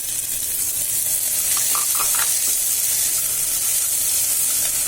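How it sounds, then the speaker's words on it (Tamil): A small tomato frying in a pan for sweet corn vegetable pulao, a loud continuous close sizzle with faint stirring touches and no voices. "சீக்கிரம் தக்காளி வதங்கும், மெல்ட்டா."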